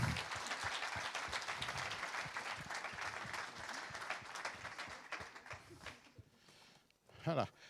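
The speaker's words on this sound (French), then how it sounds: "On peut l'applaudir encore une fois" Applause from an audience at an awards presentation, moderately loud clapping and crowd noise lasting about six seconds, then thinning out to quiet with a brief louder sound near the end.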